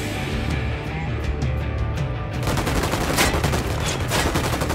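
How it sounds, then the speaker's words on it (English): Dense, loud gunfire from the Ghost Recon Wildlands video game fills the clip. A steady stream of rapid shots rings out, then grows heavier and more layered about halfway through. "I'm shooting these fuckers."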